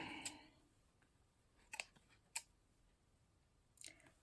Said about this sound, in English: My sewing scissors are been kind of not cooperating today.